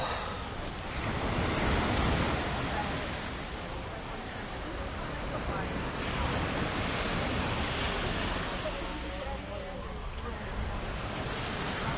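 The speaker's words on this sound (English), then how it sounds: "I'm here at Monterosso on the beach." Ocean waves wash onto the beach at Monterosso, Italy, a steady broad surf roar with gentle swells in loudness, some wind buffeting the microphone throughout.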